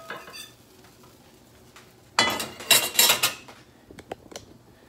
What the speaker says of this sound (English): Ready to take this guy from the pan to the plate to the belly.